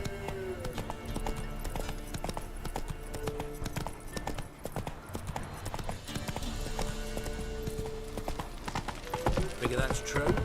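A horse gallops in The Witcher 3 video game, hooves clip-clopping in a steady rapid rhythm throughout, close and prominent, with game music and character voices talking over it.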